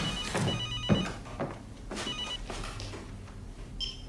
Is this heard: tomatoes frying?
no